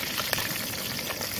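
Fish frying over a fire on the seashore, a steady close crackling sizzle of hot oil that runs continuously, with one brief louder pop near the start.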